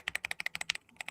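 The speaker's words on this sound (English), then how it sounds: "Oh yeah, that's like gamey keyboard," Quick, crisp clacks from a gaming computer keyboard come in a steady run of about a dozen keystrokes, close and clear with no voices.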